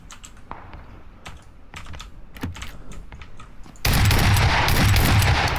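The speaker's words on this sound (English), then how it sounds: "somebody was shooting at John" Gunfire in the video game PUBG: scattered sharp shots and clicks over a quiet background, then a sudden loud, dense burst of sustained firing in the final stretch, with no talk.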